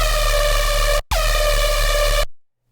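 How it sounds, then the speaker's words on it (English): A bright, buzzy synth laser tone, made with Logic's Clip Distortion, holds steady, cuts out briefly, then returns with a quick downward pitch sweep before stopping abruptly. "it becomes a laser, which sounds like this."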